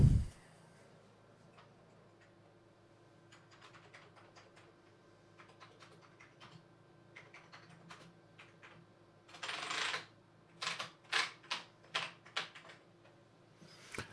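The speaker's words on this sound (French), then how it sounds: "Et on va tester le clavier, tiens." Typing on the keyboard of an Amiga 4000 computer being restored after years unused: faint sparse clicks at first, then a cluster of sharper, louder keystrokes near the end, close by in a quiet room.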